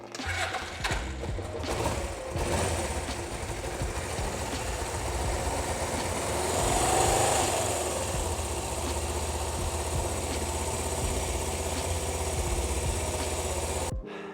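Suzuki GSX 400 E 1983 motorcycle engine cranking, catching and settling into a steady idle with choke, a close, continuous rumbling putter that cuts off at the end.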